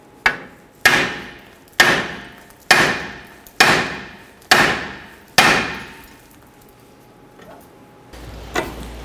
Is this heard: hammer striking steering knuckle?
yes